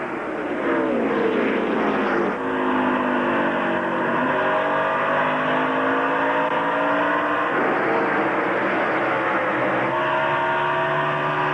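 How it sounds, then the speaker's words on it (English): Stock cars roar past in a 2002 NASCAR Busch Series race, the Funai 250, their engines a loud continuous drone with pitch sweeps as cars pass and shift, several overlapping, dense and close throughout. "Check out Jamie McMurray in the 27, driving in the corner on the inside of Spencer"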